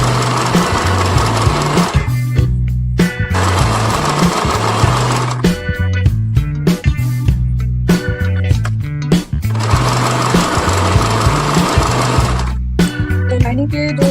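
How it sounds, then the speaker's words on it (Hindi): A sewing machine stitches the leg of a bellbottom palazzo pant in long steady runs, pausing briefly between bursts of rapid mechanical chatter, close and loud with no talking. "एक पैर का पहले इधर सिलाई कर लेंगे हम लोग।"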